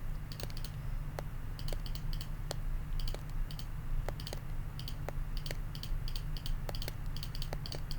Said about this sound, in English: So I'm just going to keep clicking around.